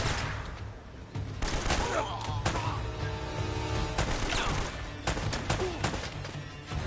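Bursts of gunfire crackle through a battle in Uncharted: Drake's Fortune, rapid shots clustered in volleys over a dense game soundscape, with a voice talking in places.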